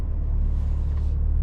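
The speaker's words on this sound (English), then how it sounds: "Oh, I have an exhaust on." From inside a 2025 BMW M3 Competition on a morning drive, the engine and exhaust hold a loud, steady low rumble throughout, close and continuous with no voices.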